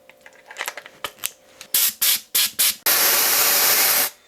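An air-powered sprayer painting a chrome fishing lure: a series of short, sharp spray bursts and clicks, then one long, loud continuous hiss of spraying close by, with no talk.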